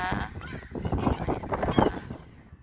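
Domestic geese honk loudly and repeatedly up close, a dense overlapping flock chorus that fades near the end with no clear speech.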